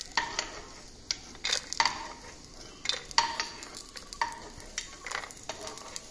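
Roasted peanuts scraped and scooped out of a cooking pan: irregular metallic scrapes and clinks of a spoon against the pan, close by, over a faint background sizzle, with no talking.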